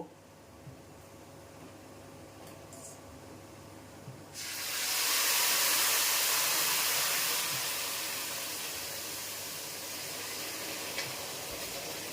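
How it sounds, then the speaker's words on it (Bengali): Hot water poured into rice and lentils frying in ghee for Gujarati khichdi, bursting into a loud, sustained hiss of steam and sizzling that swells, then slowly eases while staying strong, heard close without any talk. "এবার গরম জল আমি দিয়ে দেব।"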